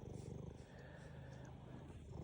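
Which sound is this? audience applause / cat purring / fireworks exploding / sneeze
cat purring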